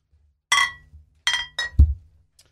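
Beer bottles clink together in a toast, several bright glassy clinks and a dull knock in quick succession, close and clear with no talking over them.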